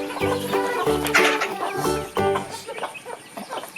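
Chickens at a family home cluck while being fed, a close cluster of short repeated clucks and calls in quick bursts, fairly faint, with no talking.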